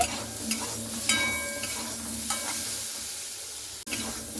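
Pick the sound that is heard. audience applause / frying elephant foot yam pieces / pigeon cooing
frying elephant foot yam pieces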